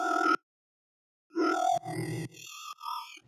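Sustained bass preset in the Vital synth with a random amplitude LFO, giving a robotic, watery, wobbling tone in short bursts broken by a long silence, choppy and fluttering, close and moderately loud.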